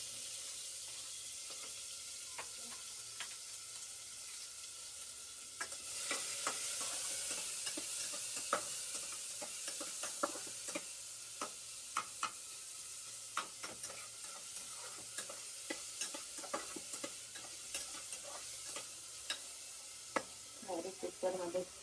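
Cumin, onion and garlic frying in a pan while being stirred, a soft continuous sizzle broken by frequent clinks and scrapes of a utensil that grow busier and more irregular partway through.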